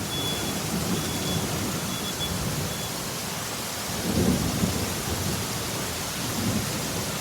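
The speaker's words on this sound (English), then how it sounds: "It's a lot of rain." Heavy thunderstorm with pouring rain: a constant loud hiss of downpour throughout, with a deep rumble of thunder swelling near the middle and a fainter roll afterward, and a few faint electronic beeps early on.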